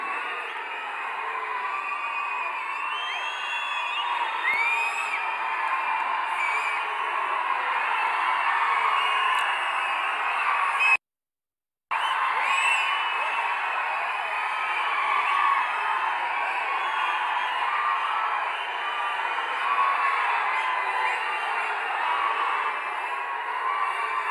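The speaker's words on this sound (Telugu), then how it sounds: "మీ ఈలలు చప్పట్లు ఈ కేరింతలు" Large audience at a Telugu film event with megastar Chiranjeevi on stage, roaring with steady cheering, whoops, whistles and clapping throughout, loud and continuous apart from a brief cut near the middle.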